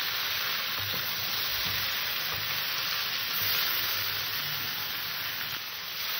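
Curry sizzling steadily in a pan as it is stirred, a constant bright hiss with faint scraping underneath, close and unbroken throughout.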